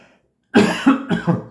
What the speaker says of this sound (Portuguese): desculpa a tosse